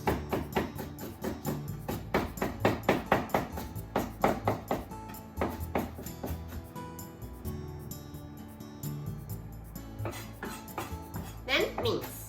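A knife chops and minces ingredients for spicy udon on a cutting board, giving a quick run of sharp, close taps that thins out partway through, then a few more chops at the end.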